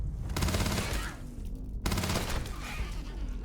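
Rapid automatic gunfire in the space game Starfield, delivered in two long sustained bursts separated by a brief pause, steady and fairly close, with no talk over it.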